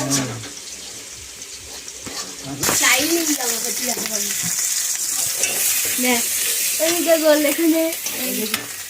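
Onion and garlic fry in oil for a fish curry, a soft sizzle that turns louder and brighter partway through, with stirring and someone talking over the pan.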